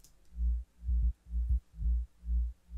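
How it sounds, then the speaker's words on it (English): A deep sub-bass sine wave synth preset plays five or six evenly spaced, rounded low notes, smooth and pure with no other sound around them. "It's just a solid sine wave right here."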